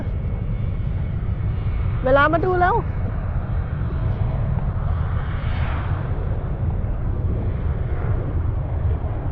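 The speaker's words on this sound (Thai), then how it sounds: "เครื่องบินกำลังจะออก" A jet taking off from the Itami airport runway gives a loud, sustained low engine roar, with a short spoken phrase early on over the rumble.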